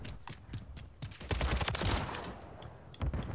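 Rapid gunfire in Modern Warfare 3, sharp repeated shots and bursts of automatic fire crackling close and loud, with a denser flurry midway and a few isolated shots at the end.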